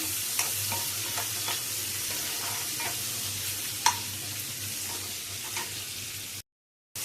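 Ingredients for puffed rice uggani frying in a pan, a steady soft sizzle with scattered light stirring taps and one sharper clink, continuous and without talk before a brief dropout at the end.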